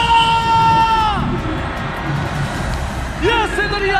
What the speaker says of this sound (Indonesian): Ada tepuk tangannya.